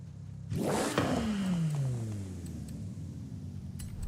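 Turbocharged car engine in Forza Horizon 5 revs up hard, then its pitch sweeps steadily downward as it winds off, loud and close with no talking.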